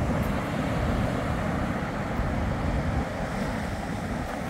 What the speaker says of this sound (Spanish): Oigan nomás cómo suena el agua aquí.